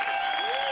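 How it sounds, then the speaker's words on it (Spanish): Applause from a concert audience for an illustrator after an illustrated concert at Baba Kamo 2021, a brief steady wash of clapping with a faint voice or tone running through it. "Elías, un aplauso para Elías."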